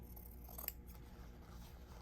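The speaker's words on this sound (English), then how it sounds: "you could just take your scissors and follow your crease" Scissors snip through 44-inch-wide quilt backing fabric, following a pressed crease. The cuts are faint and close, with one sharper snip partway through over a quiet room.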